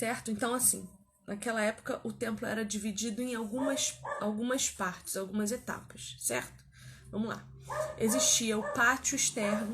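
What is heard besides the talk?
dog barking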